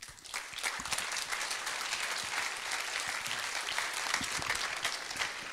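Steady applause fills a civic event in Castres-Mazamet, a dense, even wash of many hands clapping throughout, fairly distant and without talk.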